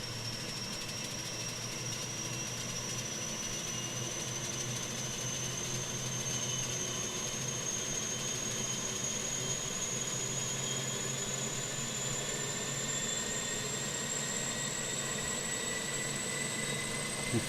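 Jet airliner engines, an EasyJet A320 in Microsoft Flight Simulator, hold a steady loud roar with a thin, slowly rising whine throughout, unbroken and without talk.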